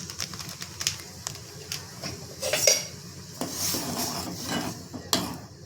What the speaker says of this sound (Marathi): दोन मिनटं आपल्याला असेच हलवून घ्यायचे गूळ पातळ होईपर्यंत